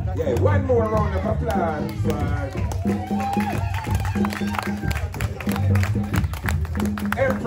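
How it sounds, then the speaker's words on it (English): Crowd applause and cheering at a Negus Day celebration in an Ethiopian cafe, mixed with chatter and voices over a steady musical backing, lively and continuous throughout. "One more round of"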